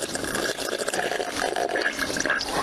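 Someone blows bubbles into a drink of water, producing a continuous close bubbling gurgle that stays even and moderately loud throughout.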